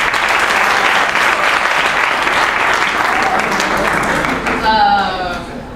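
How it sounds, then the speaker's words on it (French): Loud, dense applause from an audience at a school play performed by fourth-year pupils, sustained for several seconds, then fading as a voice begins speaking near the end. "Des applaudissements pour mademoiselle."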